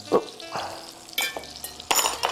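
Breaded chicken cotoletta frying in a pan, a steady sizzle broken by short bursts of spattering and the scrape of a utensil being stirred through it, close and fairly loud, with no talking.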